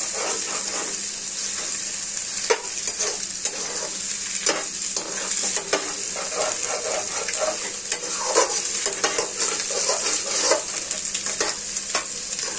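Oil sizzles and crackles steadily in a home kitchen pan, a continuous bright frying hiss with frequent sharp pops and spatters throughout, close and fairly loud with no talking.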